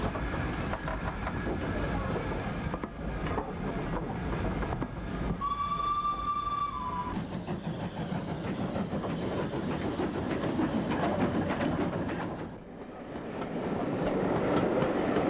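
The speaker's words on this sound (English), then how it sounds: "An LNER Class B1 shunts the yard, disposing of the wagons it's brought in." Steady rumble and clatter of an LNER Class B1 steam locomotive shunting wagons in a yard, with a brief whistle in the middle and a dip in the noise near the end.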